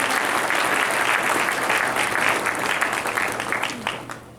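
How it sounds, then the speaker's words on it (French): Members of a Haitian church congregation in central Florida applaud together, a full, steady clatter of clapping that stays strong, then thins and fades toward the close. "Applaudissez-moi pour le fois."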